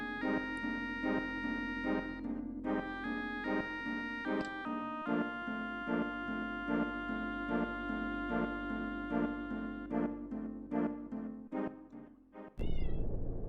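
A domestic cat meows repeatedly in a steady series of tonal calls, close and fairly clear over a quiet game soundtrack hum, ending with a brief clatter.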